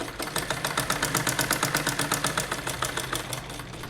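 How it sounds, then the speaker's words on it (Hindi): A sewing machine stitching cloth for a small doll's dhoti, its needle driving in a fast, steady mechanical rhythm of rapid repeated stitches close by, running without pause and with no voices. "इस क्रीच के लेफ़्ट साइड में एक पैर की सिलाई लगाएंगे"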